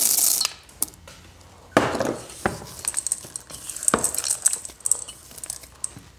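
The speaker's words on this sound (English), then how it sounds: "we're gonna fold in our chocolate chips" Chocolate chips are folded into thick vegan peanut butter cookie dough in a bowl, with close scraping and dull knocks of a utensil against the bowl in an uneven rhythm, a few louder strokes standing out.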